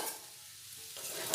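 Fried chicken pieces stirred into freshly fried chow mein in a pan, giving a soft, brief scraping and faint sizzle, quiet and close with no voices.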